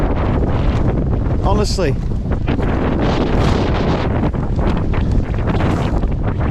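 Strong wind buffets a wild camp in the middle of the night, roaring steadily and loudly against the microphone and tent throughout, with a brief whoop and someone speaking over the gusts.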